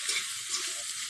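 Food sizzling and frying in a pan while being stirred, a bright continuous crackle with soft scraping strokes of the spoon, close and steady with no talking.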